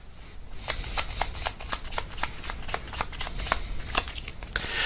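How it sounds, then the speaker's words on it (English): Tarot cards being shuffled by hand, a quick run of crisp riffling flicks in close succession, near and moderately loud with no talk. "Let's just get one more card to see if anything else comes out about that."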